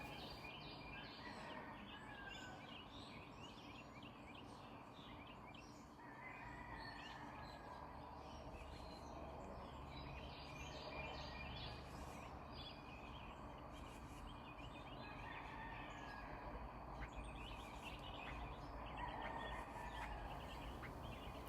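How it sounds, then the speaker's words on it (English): A gray catbird gives harsh, duck-like calls outdoors beside a Canada geese family feeding on grass seeds, repeated nasal notes over a steady bed of other birdsong and ambient noise, fairly faint and distant. "I know it sounds like there's a duck close by, and at first I thought it might be the geese, but that actually is a catbird"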